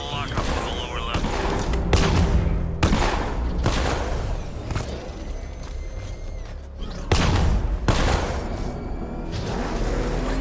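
Gunfire and heavy impacts from Batman: Arkham Knight, with loud bursts and booming thuds recurring through a busy, continuous battle mix.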